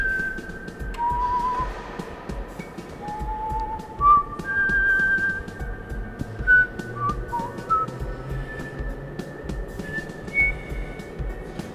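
A person whistles a rising, gliding tone in imitation of the starship Enterprise speeding up, with several sustained and sliding notes over a steady low background hum.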